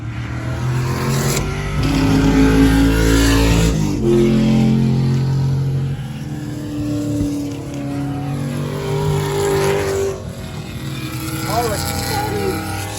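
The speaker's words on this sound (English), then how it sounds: "You're gonna see some cars come through here." Race car engines rise and fall as cars pass at the exit of turn 2 on a track, a loud nearby roar that swells and fades, with another car passing toward the end.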